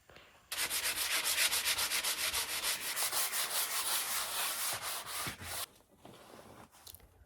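Rhythmic back-and-forth sanding of polyurethane-coated wood, strokes fast and regular for several seconds before slowing, then a few scattered scrapes and pauses.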